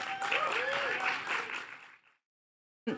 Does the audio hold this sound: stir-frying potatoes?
no